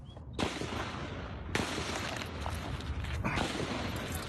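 A rapid barrage of gunshots from a shooting, several sharp bursts in quick succession with heavy echo, recorded roughly and loud throughout on a cell phone.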